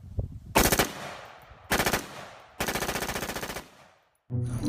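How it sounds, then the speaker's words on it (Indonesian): A toy M4 rifle fires three loud bursts of rapid electronic machine-gun shots, the last burst the longest, each rattling at an even quick rhythm, close and with no talk. "ternyata ini senjata M4 mainan"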